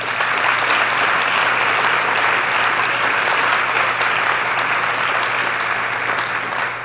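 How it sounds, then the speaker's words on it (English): An audience at a science awards ceremony applauds in a steady, dense round of clapping that lasts several seconds, fairly distant and even. "Please give them all another big round of applause."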